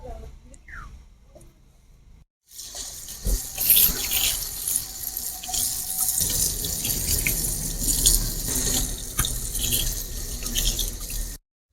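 Tap water gushes steadily for about nine seconds while red river bhola fish is washed in a sink, following a quiet opening with faint handling noises.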